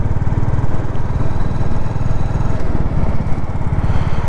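Royal Enfield Classic 350 single-cylinder motorcycle engine running with a steady, close, fairly loud thumping pulse, no voices over it.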